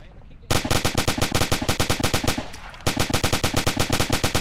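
Rapid automatic gunfire rattles out in the Arma 2 video game during a night fight, two long loud bursts of evenly spaced shots with a brief dip in between.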